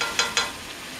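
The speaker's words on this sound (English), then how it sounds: "we're gonna pour that in, and it's gonna sizzle and make that gorgeous sound" Beer poured a little at a time into hot rice for Spanish rice sizzles steadily, with two sharp splashy bursts near the start over a continuous frying hiss.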